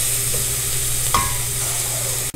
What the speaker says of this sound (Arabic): حطيت معلقة زيت زيتون والبصل وهسيبه لحد ما يتشوح